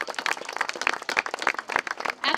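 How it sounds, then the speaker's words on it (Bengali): An audience at a Saraswati Puja celebration claps loudly for the pandal makers, a dense, steady patter of many hands that holds throughout. "তাই এনাদের জন্য একটা জোরে হাততালি"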